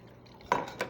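A metal spoon clatters into a frying pan of sautéed sardines simmering in broth, one sharp clink followed by a smaller second knock, close up over a quiet kitchen background.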